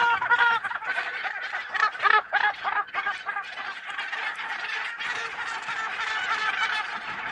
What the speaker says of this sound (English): Fights can break out, usually between gannets of the same sex.